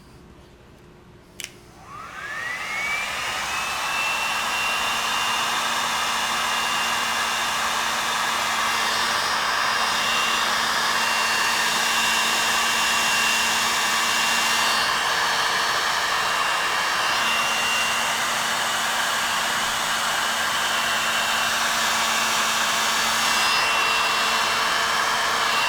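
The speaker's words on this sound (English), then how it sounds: "Now I have a heat gun right here." Heat gun blowing hot air onto large-gauge heat shrink tubing, switching on with a rising whine that settles into a loud, steady blowing roar held for over twenty seconds.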